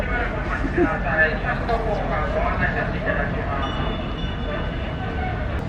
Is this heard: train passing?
yes